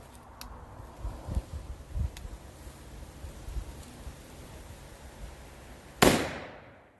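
A 12 gauge double barrel black powder gun fires a round ball at 15 yards. A single sharp, loud outdoor shot near the end decays quickly, after quiet handling noises and faint thumps.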